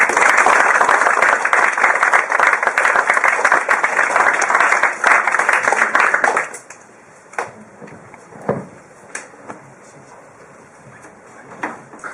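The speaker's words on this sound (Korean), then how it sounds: "이제 정태승 교수님을 큰 박수로 맞아주시기 바랍니다" Audience applause welcoming a professor to the stage at a library science lecture in Ulju, dense steady clapping that stops abruptly partway, followed by a quiet room with scattered shuffles and faint voices.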